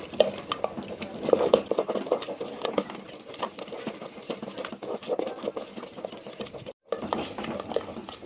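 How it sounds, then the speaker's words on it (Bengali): Eggs are stirred nonstop in a pan, making a busy, rhythmic scraping and clinking of a utensil against metal. The scraping is close and carries on with barely a pause. "এইভাবেই একে একটানা নাড়তে হবে, একদম হাত থামানো যাবে না"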